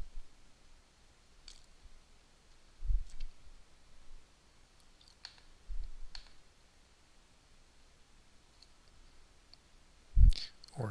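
Several sharp, isolated mouse clicks spaced a few seconds apart while navigating a mobile phone app prototype on a computer, quiet and close against a faint room hush.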